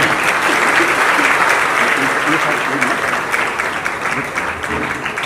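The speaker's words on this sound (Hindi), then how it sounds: "जोरदार तालियां" Loud, sustained applause from a crowd at a Guru Purnima satsang, dense clapping that carries steadily from start to finish.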